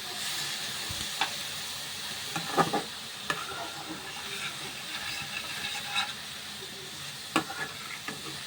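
Chillies, ginger, dried red chillies and fenugreek frying in a pan for a spinach dish, with a steady soft sizzle and scattered crackles and stirring clatters; no talking.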